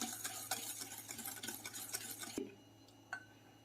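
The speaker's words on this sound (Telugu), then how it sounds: "దీన్ని కూడా ఒక 2 నిమిషాలు ఇలా బీట్ చేసుకోవాలి" Egg yolk is beaten into plum cake batter with a quick, steady whisking rustle against the bowl, faint and close, stopping abruptly partway through with a single later tap.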